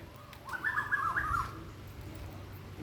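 An Asian koel gives one short warbling call that lasts about a second, clear over steady low background noise.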